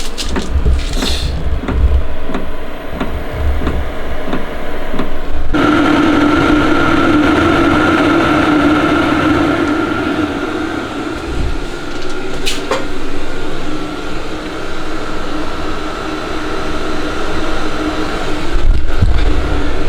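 A BMW E24 engine runs at a steady idle in a garage, a continuous loud hum with a slight shift in tone partway through and no talking.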